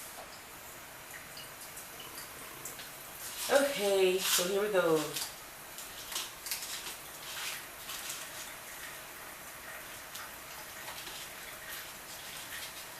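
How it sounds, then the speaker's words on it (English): Kitchen tap turned on while frosting for a cake is being made, a brief gush of running water lasting a couple of seconds, with a person speaking briefly at the start. "Let me turn on the water."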